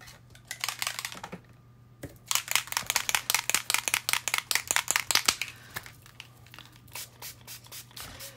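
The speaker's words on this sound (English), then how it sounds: "what happens if I spray on top of that again?" Spray bottle misting onto already soaked paper during an art demo, a run of quick sharp spritzes in close succession, loud and near, with a short pause after the first few bursts.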